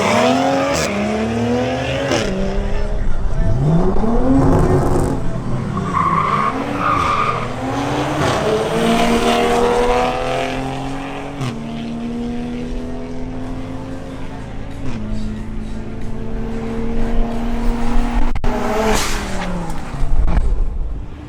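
A BMW M340i xDrive launches in a drag race, its engine note climbing through repeated gear changes with loud, sustained revving and brief tire skids, heard close and dominant throughout with no talk.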